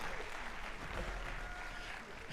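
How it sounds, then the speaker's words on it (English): A round of applause for a high school JV jazz band after a fall concert, a brief, fairly quiet burst of crowd clapping with a low hum beneath. "Let's give JV Jazz one final round of applause on a fantastic fall concert"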